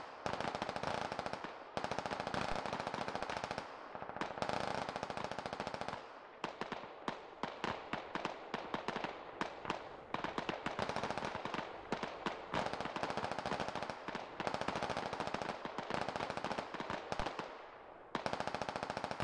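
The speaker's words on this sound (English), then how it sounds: "We are returning fire right now." Sustained bursts of automatic weapon fire in a SquadOps firefight, dense rapid cracks with brief pauses between volleys, loud and close throughout.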